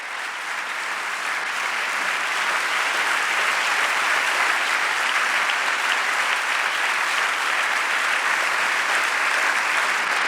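A church congregation gives sustained, dense applause at a prayer service, a loud unbroken wash of many hands clapping for the full ten seconds.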